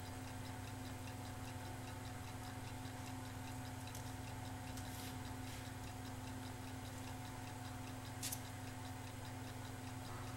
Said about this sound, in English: if you guys listen closely, you'll hear the sound of my 1965 Westclocks that I fixed.